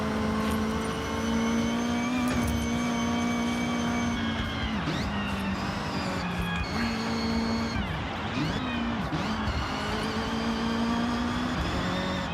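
Car engine in the Forza Horizon racing game, driven with a wheel, revs steadily and accelerates through gear changes, its loud droning tone rising and dipping continuously with no talking over it.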